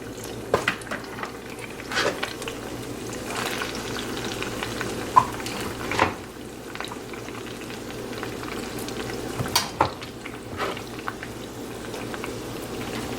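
A spoon stirs a meatball sauce with chopped ingredients in a pan, soft sizzling and bubbling under occasional scrapes and clanks against the pan at a steady, unhurried pace.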